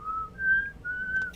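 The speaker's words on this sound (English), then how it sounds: "but wait, we need to whistle." A short whistled tune of a few sustained notes, clear and close, with nothing else going on.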